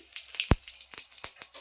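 Cumin seeds hit hot oil in a wok with scattered sharp crackles and pops and one heavier thud, sparse and close over a faint background hiss.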